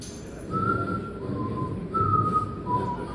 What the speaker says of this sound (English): they'd shuffle their feet and then start whistling